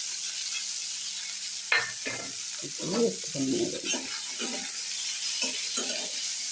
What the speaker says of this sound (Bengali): এগুলো ভাজা হয়ে গেছে এবার এর মধ্যে এই দেখুন পেঁয়াজ আর কাঁচা লঙ্কা এগুলোতে দিয়ে